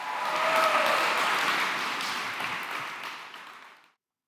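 An audience at a comedy magic show bursts into applause, loud at first and then gradually thinning out over a few seconds before stopping abruptly.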